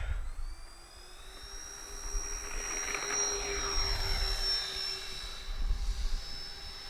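An RC OV-10 Bronco warbird model airplane takes off with a thin, high whine that climbs in pitch and holds steady, over a low rumble of wind and background noise.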